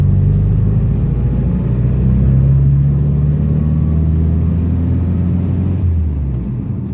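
A car engine idles with a low rumble, then revs up and holds a steady pulling tone as the vehicle pulls off in second gear, close and loud throughout.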